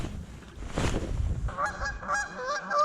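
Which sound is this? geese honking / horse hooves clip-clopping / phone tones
geese honking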